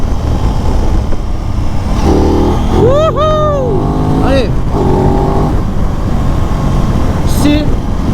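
Aprilia RS 660 2023 sport motorcycle accelerating hard, a loud continuous engine roar with rising gear-by-gear pitch sweeps, while a rider whoops and shouts over it.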